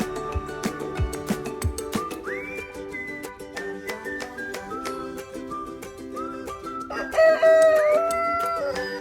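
Hens on a farmstead cluck and call repeatedly in short, sharp bursts, with a few longer drawn-out calls that rise over the flock's chatter on a hot day.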